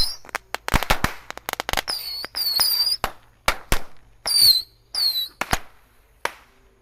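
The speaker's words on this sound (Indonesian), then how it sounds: "Kita nyalakan 1 pak sekaligus guys." A full pack of mini rocket firecrackers set off together on a Ramadan night, giving a rapid string of sharp cracks and pops, several with brief rising whistles, loud and close, spread unevenly over several seconds with no talk.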